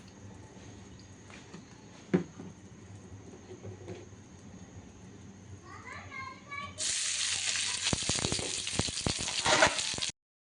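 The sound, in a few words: olive oil heating in a wok on the stove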